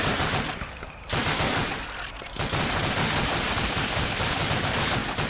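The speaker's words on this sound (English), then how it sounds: "Hence why I'm burst firing" Rapid gunfire from the Call of Duty: Finest Hour video game, dense overlapping shots in a continuous loud barrage with brief lulls, no talk.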